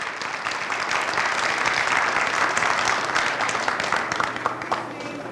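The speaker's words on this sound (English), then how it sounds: "Give yourselves a round of applause for supporting the entrepreneurial ecosystem." Sustained applause from a large audience at an entrepreneurship event, dense and steady throughout with scattered crowd noise and faint voices mixed in.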